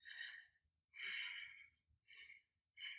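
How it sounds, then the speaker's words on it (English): Quick, shallow chest breaths in an anxious pattern: four airy, audible inhales and exhales in close succession, each a short hissing rush, heard up close in a quiet room. "that is a very anxious way to breathe"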